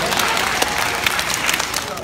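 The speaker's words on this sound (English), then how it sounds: "Let's give a nice round of applause" Brief audience applause at a sports team community event, a steady roar of clapping with a few sharper claps standing out.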